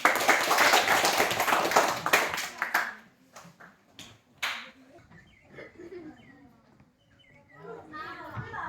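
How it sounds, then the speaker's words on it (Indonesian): Hands clapping at a Christian religious education teaching practice session, a burst of dense claps for about three seconds, then a few scattered claps and quiet room sounds with faint chirps. "Tepuk tangan untuk teman kita."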